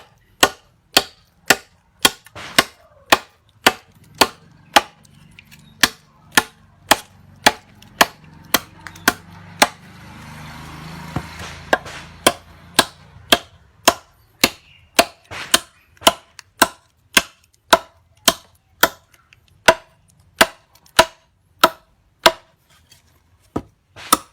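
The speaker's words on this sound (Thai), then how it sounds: "ฟันได้คล่องตัวนะครับ ฟันได้เร็ว เพราะว่า มันไม่มีการหนีบนะครับ" A parang machete forged from an old jeep leaf spring chops into wood with steady, evenly spaced sharp thwacks, dozens of crisp close strikes in a regular rhythm over a faint background murmur.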